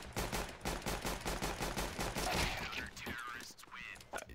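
Rapid bursts of gunfire in Counter-Strike: Global Offensive, loud and close, with shots repeating quickly over several seconds before trailing off into quieter game sounds.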